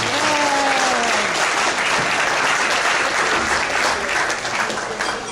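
Wedding guests give a loud, sustained round of applause for the mothers during the toasts. A voice is briefly heard at the start, and the clapping fills the room throughout.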